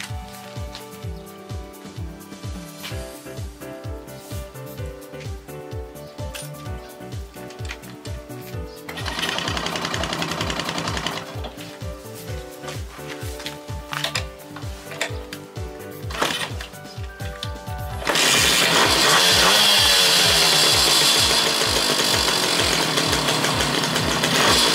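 A 1973 Yamaha YB125E two-stroke motorcycle engine runs steadily with a rapid, rattling putter, revving up to a louder, harsher roar partway through and again near the end.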